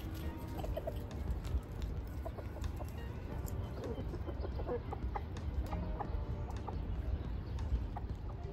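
Chickens clucking in a street in Balat, Istanbul, a soft scattered cackle over a steady murmur of outdoor background noise, faint and continuous with no talking.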